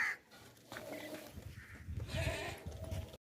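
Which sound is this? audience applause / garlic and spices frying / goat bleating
goat bleating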